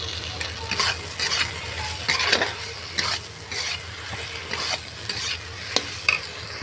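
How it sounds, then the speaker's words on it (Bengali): Pointed gourd and chhana frying in a pan, a steady close sizzle broken by repeated scraping stirs of a spatula, with no voices. "এরপর আমি পটলগুলো ওর মধ্যে দিয়ে দেব।"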